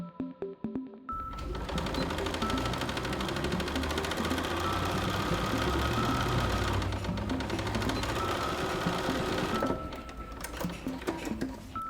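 A sewing machine stitches a fabric face mask, a steady close mechanical chatter running continuously for about nine seconds between brief pauses.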